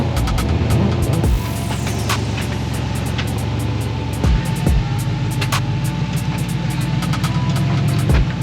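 A rock crawler buggy climbs out of a rock crack in rear-only steer, its engine holding a steady low throbbing drone with brief revving bursts and occasional sharp knocks from tires and chassis against boulders.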